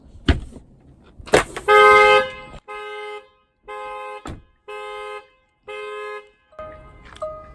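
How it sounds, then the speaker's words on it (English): A car alarm goes off nearby, blaring in loud, evenly spaced horn pulses after a couple of sharp clicks. "and as you heard, the alarm went off."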